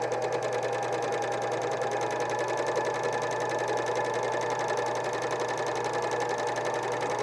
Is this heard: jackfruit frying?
no